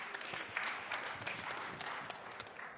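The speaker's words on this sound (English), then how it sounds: "Please give a round of applause." An audience at a TechChill startup pitching event breaks into a brief round of applause, many hands clapping together in a dense, moderately distant patter with no one speaking over it.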